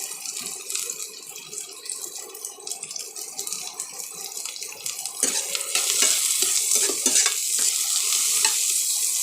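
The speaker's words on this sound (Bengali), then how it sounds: "এই যেখানে আলু সেদ্ধ করে রেখে দিয়েছি, এর মধ্যে দেবো, দিয়ে বেশ 1 চিমটে হলুদও দিয়ে দেবো" Boiled potatoes and a pinch of turmeric go into a frying pan and are stirred, with steady sizzling and scraping that get louder and busier halfway through, no talking.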